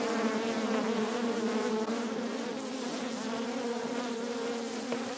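Angry honeybees from a small colony living in a bird box buzz in a dense, continuous drone, fairly faint and steady throughout, with no talking.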